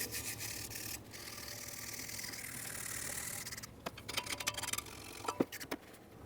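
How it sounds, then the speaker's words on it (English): Steady scraping of a wire brush on the bushing base area of a 2006-2012 Ford Fusion brake assembly, continuous rasping that turns into short choppy strokes near the end, close and moderately loud. "clean up the base area where the bushing will press directly against, and also clean the inner ports. Use a wire brush."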